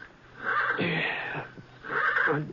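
A horse neighs in a corral near dawn as a 1954 radio western sound effect: two loud, close whinnies, the first long with a quavering fall and the second shorter, separated by a brief pause.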